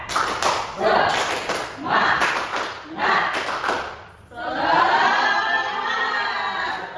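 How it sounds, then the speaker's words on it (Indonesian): A school class does a rhythmic spirit clap, four bursts of patterned hand claps followed by a longer sustained round of clapping, with children's voices mixed in. "Kita tepuk semangat."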